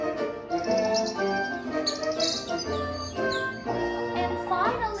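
Birds chirp and tweet in bright, busy calls over a light melodic backing in a children's lesson, lively and close, with a faint child-like voice mixed in.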